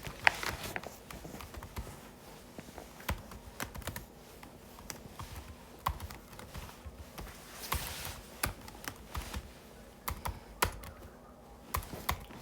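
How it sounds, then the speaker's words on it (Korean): Rapid, uneven keyboard typing clicks away close up, keys tapping in quick bursts with short pauses, fairly quiet overall. "키보드가 미쳐가네."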